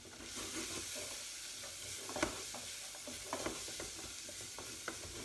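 A pot of butternut squash and ginger soup with honey and white pepper simmering on the stove, giving a steady soft bubbling sizzle with a few faint clicks and knocks, no voices.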